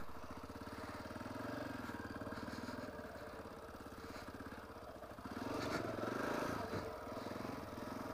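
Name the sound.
motorcycle engine running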